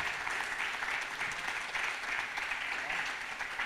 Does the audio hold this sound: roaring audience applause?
yes